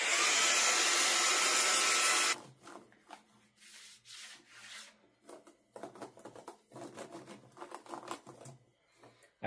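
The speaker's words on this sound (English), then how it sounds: "we're gonna take that same air duster, blow out all the little nooks and crannies" Compressed air duster blasting dust from the nooks and crannies of a laptop, a loud steady hiss for about two seconds, then fainter scattered rubbing and handling noises.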